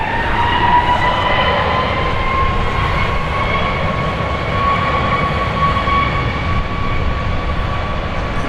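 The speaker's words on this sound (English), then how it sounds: "what we saw land just a moment ago was flight 1220 from Ontario, California, a MAX 8" A Southwest Boeing 737 MAX 8 airliner lands at Dallas Love Field, a loud continuous jet roar with whining engine tones holding steady and close, no voices over it.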